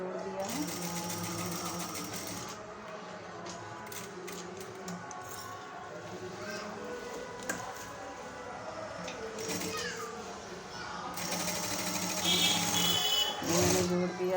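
A sewing machine runs close by, stitching a blouse neckline in a steady mechanical whir with brief pauses and speed changes, while someone talks over it.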